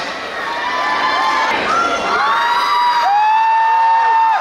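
An awards-ceremony audience cheers loudly, with high shouts and whoops from children and adults rising over a dense crowd roar that stays strong throughout.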